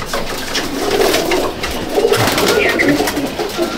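Teddy pigeons of a Salara Teddy, Mianaji bloodline, coo in a home pigeon loft, a close, repeated low murmur of overlapping calls.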